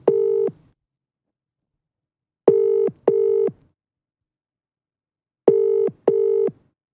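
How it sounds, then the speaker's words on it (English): A phone on speakerphone rings out with a ringback tone, three double rings spaced by silence, clear and close, with no answer and no talking. "Let's put him on speaker so you can hear he doesn't answer the phone."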